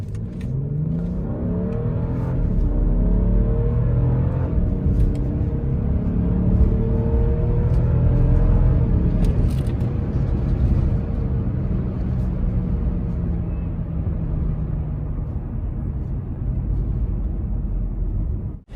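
A 2015 BMW 5 GT 35i petrol car accelerates hard in sport mode, a loud, close engine roar climbing steadily through the revs with a deep exhaust note, continuous and without talk.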